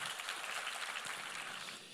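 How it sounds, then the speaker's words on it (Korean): A church congregation applauds together, a dense, steady wash of clapping that fills the space at moderate volume and tapers slightly toward the end. "우리 하나님께 감사와 영광의 박수를 드리겠습니다"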